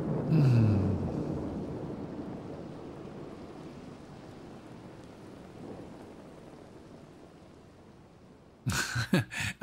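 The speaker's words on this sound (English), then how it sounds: "this rain and thunder" Recorded rain and thunder within a song: a steady, full wash of falling rain with a deep rumble of thunder near the start, continuing alone before music enters at the very end.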